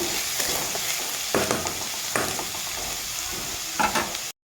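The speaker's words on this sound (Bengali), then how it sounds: "তাকে আমি হালকা ভেজে নেব" Chopped onion fries lightly in oil in a wok, a constant close sizzle with a few scraping stirs of a spatula rising above it, no talk, ending abruptly.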